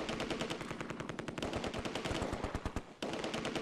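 Rapid bursts of automatic gunfire from a World War II tactical video game, Close Combat II, set at Arnhem, with rifle and machine-gun shots rattling in quick repeated volleys, loud and close, pausing briefly before resuming.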